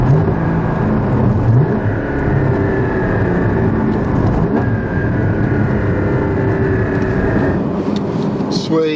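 A Porsche Cayman 981 GT4 sports car drives along with a steady engine drone and road roar throughout, heard from inside the cabin, with a brief rise in engine pitch early on and some clicks near the end.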